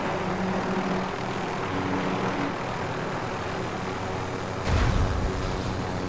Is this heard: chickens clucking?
no